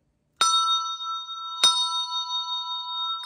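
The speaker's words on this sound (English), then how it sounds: "So you hear two bells at the same time." Two bells struck together ring out in a church setting, with two clear strikes about a second apart, each leaving a long, bright, sustained tone that slowly decays; no voices.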